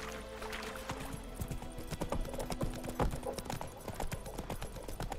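Horse hooves in The Witcher 3: Wild Hunt clip-clop at a steady trotting rhythm, fairly close, with a faint hum of background ambience.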